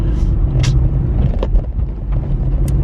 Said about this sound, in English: Oops, speed bump.